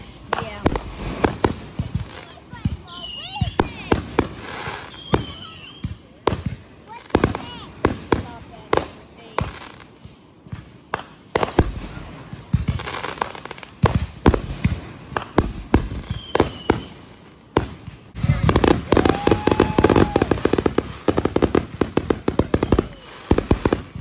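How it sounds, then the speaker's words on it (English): Fireworks burst throughout a holiday weekend celebration, sharp cracks and booms firing in irregular rapid volleys that grow denser near the end, with people talking in the background. "They did such a good job with the fireworks this year."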